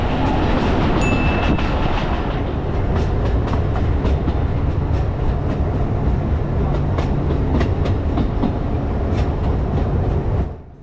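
An Alishan Forest Railway train in Taiwan runs along its tracks, a continuous loud rumble with rhythmic clicks and wheel knocks heard from inside the carriage, steady throughout before easing off at the very end.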